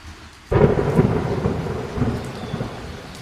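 Thunder bursts in suddenly after a quiet moment in an animated thunderstorm, then rolls on under a steady wash of heavy rain falling on surfaces, with no talking.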